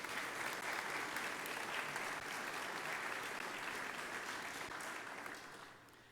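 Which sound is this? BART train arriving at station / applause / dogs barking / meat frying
applause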